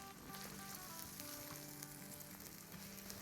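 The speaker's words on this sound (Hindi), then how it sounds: "मसाले को थोड़ा सा अच्छे से मिक्स करके और थोड़ा सा भूनेंगे।" Onion curry masala for a Gujarati-style pyaaz salan sizzles steadily in a pan as it is mixed and fried, close and even with no talk.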